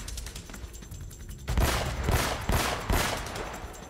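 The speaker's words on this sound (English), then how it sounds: "Damn it, the shotgun kind of sucks." Shotgun blasts in the Uncharted video game (Nathan Drake Collection): near-silence, then four loud broadband booms about half a second apart, each with a decaying crack and tail, no talking.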